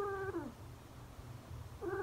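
A small cat mewls twice with drawn-out falling cries, one at the start and one at the end, close and clear over a low background hum.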